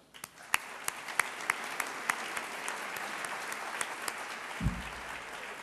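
A crowd applauding, dense overlapping claps at an even pace from start to finish, with a soft low thump near the end.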